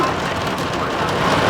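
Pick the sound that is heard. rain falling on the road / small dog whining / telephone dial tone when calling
rain falling on the road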